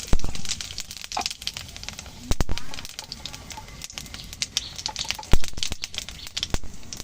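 Whole cumin, dried red chili and bay leaf sizzle and crackle in hot oil, with sharp irregular pops over a low hiss, close by, as someone talks over it.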